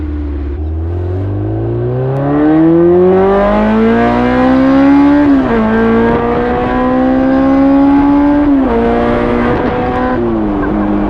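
A built, naturally aspirated K24 engine in a Honda S2000 revs hard, climbing in pitch through several sustained pulls with brief dips between, loud, raw and close.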